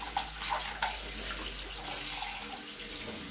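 Tap water runs steadily into a sink while a Tupperware dish rack is rinsed under it, a continuous close splashing hiss with a few soft knocks of plastic, and no talking.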